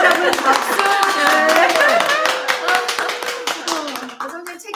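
A small talk-show studio audience claps in quick, close, distinct hand strikes that thin out toward the end, with people talking over the clapping.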